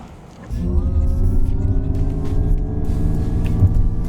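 Cabin rumble of a 2025 NIO ET5 electric car setting off, rising abruptly into a steady low drone with a faint high motor whine, no voices.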